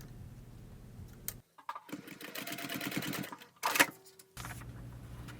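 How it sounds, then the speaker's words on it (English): A sewing machine stitches through a folded fabric piece holding a D-ring, running in steady bursts with brief pauses and a sharper mechanical clack partway through; close and fairly quiet, with no talking. "Slip the D-ring onto the folded piece and sew together 5/8 of an inch from the raw"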